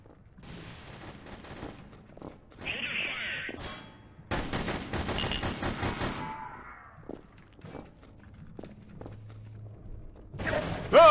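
Bursts of rapid gunfire from The Hidden: Source game, with several volleys of varying length separated by near-silent gaps, fairly loud and close, with a brief voice near the end.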